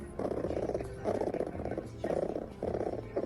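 A rhythmic purring played as a sound effect for a marten in a tabletop role-playing game session. It comes in four steady rumbling pulses with brief gaps between them, loud and close.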